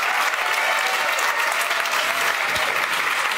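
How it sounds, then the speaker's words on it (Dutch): Warm, dense applause from an audience at a municipal election debate in Amsterdam, steady and close for the whole stretch with no voices on top. "Geef er een warm applaus."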